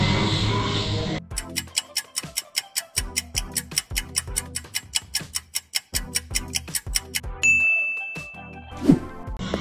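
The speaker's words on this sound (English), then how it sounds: "Christmas bells" Christmas bells ring out in a steady, evenly spaced series of bright, clear dings, each one close and loud and left to decay before the next strike, with a short burst of noise before the bells begin.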